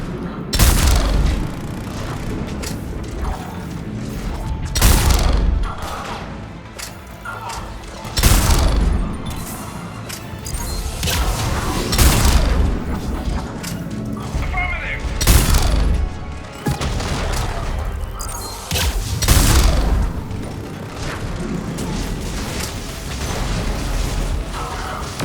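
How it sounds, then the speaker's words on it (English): Heavy weapon fire and explosions in the sci-fi shooter Mass Effect 3, a series of loud booming blasts roughly every few seconds over continuous combat rumble and mechanical clatter, with no talking. "Now that's a big gun."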